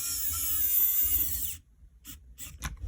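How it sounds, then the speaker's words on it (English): Electric screwdriver with a nearly dead battery driving a screw into a Game Boy Color case: a steady high whine for about a second and a half, then silence and a few light clicks and taps. "Okay, next screw up. I believe my screwdriver is about to die."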